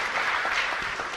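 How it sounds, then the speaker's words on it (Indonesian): A short burst of applause from a small crowd at a meditation session, steady clapping at moderate volume with no voices. "Tepuk tangan."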